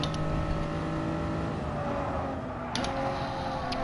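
A race car engine in the Gran Turismo Sport racing game drones steadily at high revs, its pitch shifting slightly as gears change, with a sharp blip of revving near the end.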